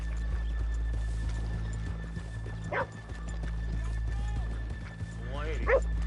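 Horses in the video game Red Dead Redemption 2, faint hoof clops and a couple of short whinnies beneath a steady low ambient hum, with speech nearby.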